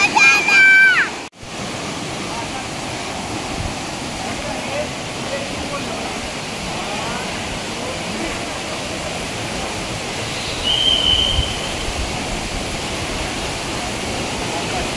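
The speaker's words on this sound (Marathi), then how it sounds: "हा धबधबा आधीच्या धबधब्यापेक्षाही खूप मोठा आहे." Vasundhara waterfall in Bhandardara, a steady broadband roar of falling water that holds evenly throughout, close and loud, with a brief dip near the start and a slight swell later.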